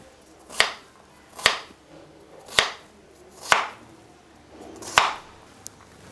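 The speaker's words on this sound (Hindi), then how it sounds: "तो सबसे पहले हम गाजर काट लेंगे।" A knife chopping carrots into cubes on a board, with five sharp, evenly spaced chops about a second apart and close to the listener, followed by a light tap, with no talk.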